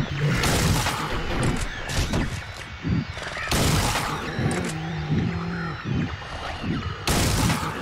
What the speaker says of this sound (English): Wasting all my shotgun shells.